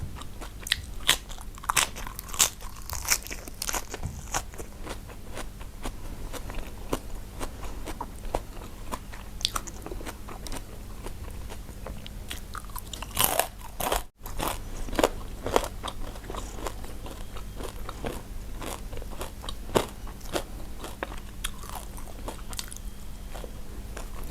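Fried pork intestine with garlic crunches between someone's teeth in rapid, crisp bites that keep going, close and loud, with no talk.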